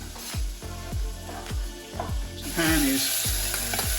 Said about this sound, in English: searing away